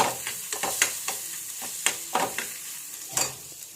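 An egg frying in a pan for a simple meal, with a soft steady sizzle broken by repeated light scrapes and taps of a utensil, nearby and without talk.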